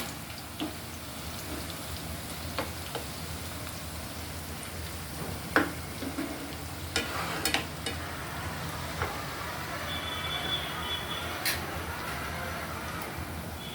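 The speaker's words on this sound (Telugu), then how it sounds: "ఇట్లా మొత్తం ఆనియన్స్ ఒక 3 ఆనియన్స్ తీసుకున్నాం కదా, అవి మొత్తం వేయించుకోవాలి మనము." Three onions fry in a pan for Hyderabadi chicken dum biryani, with a constant dense crackling sizzle like steady rain that stays close and even, broken by a few faint clicks and utensil taps.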